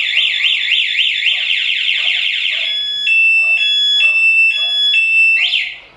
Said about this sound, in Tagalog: nag-a-alarm na siya ng dire-diretso